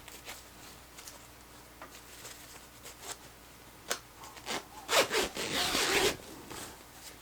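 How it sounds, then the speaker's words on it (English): A zipper on a cushion cover being unzipped, first soft scattered rasps, then a louder, drawn-out zip near the end, close by with no speech. "now using this zipper,"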